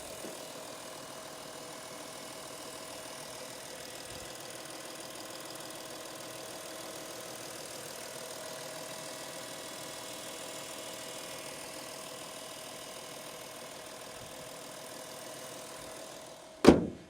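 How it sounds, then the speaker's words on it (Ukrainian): A 2017 VW Touareg 3.0 diesel with about 134,000 km idles steadily with a low, even hum and faint mechanical ticking, ending in a brief sharp clunk. "Зараз я вам покажу, покажу, покажу, як працює двигун."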